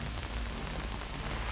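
Steady rain falls during an outdoor reality-show challenge in Oregon, a dense continuous hiss of drops hitting surfaces, close and even throughout with no voices.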